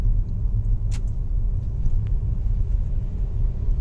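A DS 5 car engine runs with a steady low rumble while gears are shifted sequentially, a continuous near drone with faint brief clicks over it.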